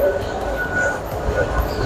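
A Northern line train runs at Waterloo station on the London Underground, with a close, steady rumble, rolling rail noise and faint high whines of the wheels.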